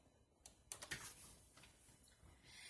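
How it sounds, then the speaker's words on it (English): Quiet, irregular clicks of a computer keyboard being typed on while reaching over a camera, a few scattered keystrokes with a short cluster near the middle. "I'm typing over my camera, so it's a little awkward."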